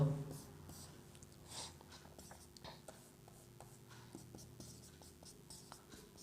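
Marker or chalk writing out factors on a classroom board, soft repeated scratching and tapping strokes in a quiet room with faint low hum.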